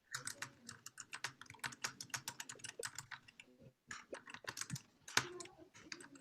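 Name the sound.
typing on a computer keyboard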